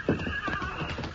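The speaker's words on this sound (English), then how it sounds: "There are 4 horses tied over there by the bank." Tied-up horses shuffle with clip-clopping hooves while one whinnies, close by and moderately loud, with no voices.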